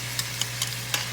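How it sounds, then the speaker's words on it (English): Canned Rotel chili going into a hot pan of cooking shrimp: steady frying sizzle with a few soft stirring clicks and scrapes, close and alone. "now that the shrimp is cooked for about a minute and a half, I'm going to add a half can of the Rotel chili"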